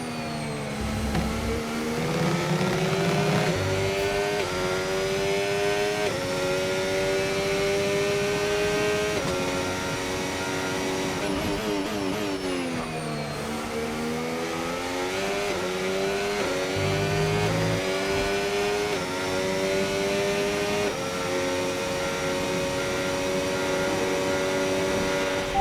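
F1 car in the racing game F1 25 at the Bahrain GP, a loud high-pitched engine wail sustained throughout, climbing through gears with sharp downshifts and dips under braking, no voices.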